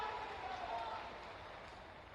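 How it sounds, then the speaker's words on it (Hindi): A crowd at a political rally in Gwalior claps to welcome Narendra Singh Tomar, producing dense, steady, rain-like applause that stays fairly faint and even throughout. "आदरणीय श्रीमान नरेंद्र सिंह तोमर जी, उनका ताली बजा के स्वागत कीजिए"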